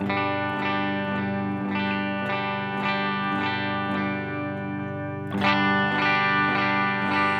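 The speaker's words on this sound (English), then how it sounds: "Watch what happens when we do the same thing, but we've got the DCX Boost on with the adaptive circuitry." An electric guitar played through an Origin Effects DCX Boost pedal with adaptive circuitry: steady, bright, sustained chords with a slightly driven edge and a few repeated strums. A fresh, louder attack lands near the end.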